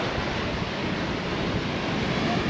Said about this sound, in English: The water comes crashing over.